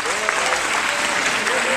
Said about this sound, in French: je voudrais que vous applaudissiez très fort Harvey Weinstein